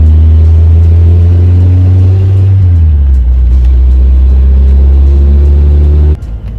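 A 1987 car with a carburetor being driven, its engine a loud, close, steady rumble that shifts down in pitch partway through as it eases off, then drops abruptly near the end.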